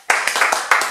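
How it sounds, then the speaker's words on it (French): Brief burst of clapping from a TV studio audience welcoming a show guest, several sharp rising swells within under a second, fairly loud and close. "sous vos applaudissements"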